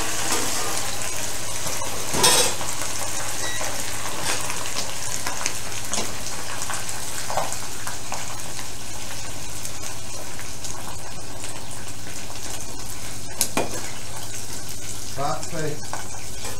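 Food fries in hot oil with a steady sizzling hiss throughout, overlaid by kitchen clatter and occasional voices in a cooking class setting.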